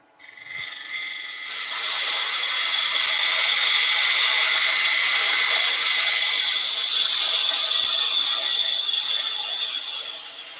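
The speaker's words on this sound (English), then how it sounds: "So the actual side of the parting tool, that will scrape as you're cutting down." The side of a parting tool scraping a spinning wood workpiece on a lathe gives a loud, continuous, bright hiss. It holds steady for about nine seconds, then eases off.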